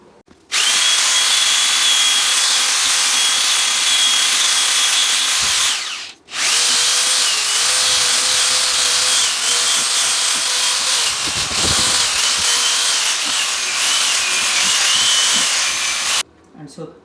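A handheld power mixer whirs loudly and steadily as it stirs tile adhesive for wall tiling in a walk-in shower, with one brief pause midway before the motor runs again.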